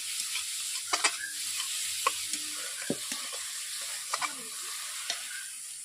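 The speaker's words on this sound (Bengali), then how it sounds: "এইভাবে আমি মশলাগুলোকে কষে নেব" Bhindi masala spices sauté in a pan with a constant close sizzle, broken by frequent scraping and tapping strokes of a stirring spoon, with no talking.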